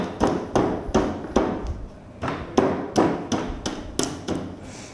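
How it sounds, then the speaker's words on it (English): Hammer blows on an induction motor during rotor installation in a rewinding lab, struck in a steady series of about ten sharp, loud impacts each with a short ringing decay, with a brief pause midway. "Both sides we have to do the hammering properly."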